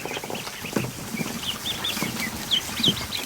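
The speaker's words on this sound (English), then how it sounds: "It's a little Muscovy." A tiny Muscovy duckling in a duck barn gives a run of thin, high peeping calls, several short chirps in quick succession over a soft background rustle.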